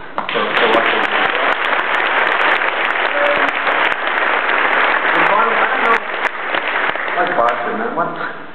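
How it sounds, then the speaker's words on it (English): A large audience at a business hall of fame induction gives a sustained, loud round of applause for the fans, a steady dense roar of clapping with scattered voices in the crowd. "I'd like to give the fans a round of applause for what they've done."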